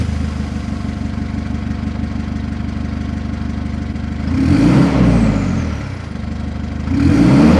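A deep stainless steel exhaust on a Mitsubishi Pajero NS SWB idles with a steady burble, then revs twice in loud, throaty surges that drop back to idle between them.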